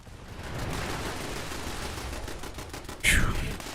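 Sustained automatic gunfire in Fallout 76, a rapid rattling stream of shots that carries through the clip before a sharp louder burst near the end.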